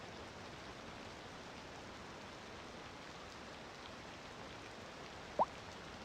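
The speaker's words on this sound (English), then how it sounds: "I wish it would stop raining!" Rain falls steadily in a city-building video game, a soft, even, constant hiss with no voices and one tiny brief chirp near the end.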